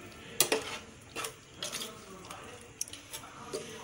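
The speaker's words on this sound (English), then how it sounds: "Give it a quick stir." Someone stirs beans and a stock cube in a pot, making a few scattered scraping and clinking strokes of a spoon against the pot, close and soft.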